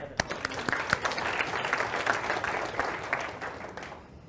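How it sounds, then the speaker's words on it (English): An audience at a money-making seminar breaks into applause. Crowded clapping sounds from start to finish at moderate distance, with a few sharper claps near the front, then fades toward the end. "Round of applause."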